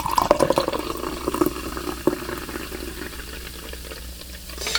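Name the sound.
pouring GNC Mad Pony orange mango energy drink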